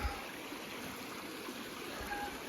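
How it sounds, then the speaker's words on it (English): A mountain creek runs at a trail crossing in Moosehorn Valley, a steady, even rushing and trickling wash of water that fills the scene without pause, moderately near and fairly soft, with no voices. "The creek crossing."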